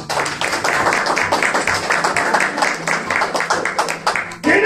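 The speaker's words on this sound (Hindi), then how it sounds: "बहुत सारी तालियां उन खादमों की" A church congregation at a Hindi-Urdu sermon bursts into dense, sustained clapping that rolls on steadily for several seconds before briefly dipping and picking up again at the end.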